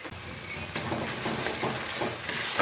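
Ground spice paste for a hilsa fish curry, with black cumin, salt and turmeric, fries in a pan, giving a steady close sizzle that builds slightly, broken by soft stirring scrapes.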